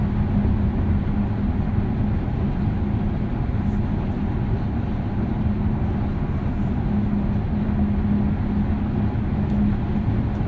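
A 2023 Genesis Electrified G80 at highway speed carries a steady low tire rumble and road drone, constant and even, with little wind noise and no talk.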